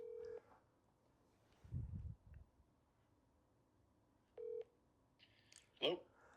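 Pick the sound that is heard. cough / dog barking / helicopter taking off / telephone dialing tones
telephone dialing tones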